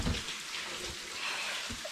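Steady rain patters and drips outside a cave in Queensland, a soft continuous wash with occasional heavier drops, fairly faint and even throughout.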